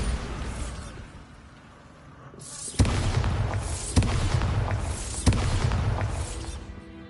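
A Bombarda spell goes off in a video game with three loud booming blasts over a continuous roaring rumble, and the noise swells after a brief lull.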